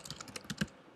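Quick typing on a computer keyboard, a run of light irregular key clicks with a couple of firmer strikes, close and alone with no talking.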